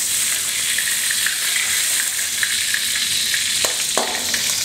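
Shrimp stir-fry in a hot pan with a loud, steady sizzle and hiss. Near the end, a couple of sharp spatula scrapes or clanks cut through the frying.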